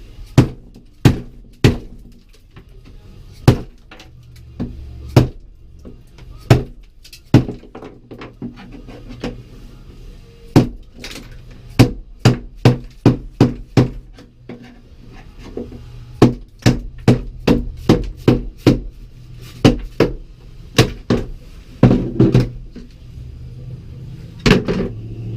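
A chisel knocks cold sound deadening material off a BMW 530 car floor, producing sharp hard knocks that come singly at first and then in quick irregular clusters, loud and close, over a low background hum.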